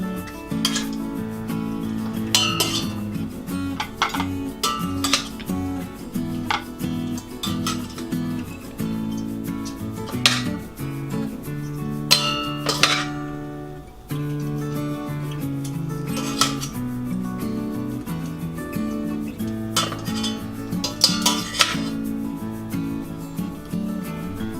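Cooked chicken pieces are lifted one by one from a pot onto a clean plate, giving scattered clinks and scrapes of utensils against cookware, with soft music playing underneath.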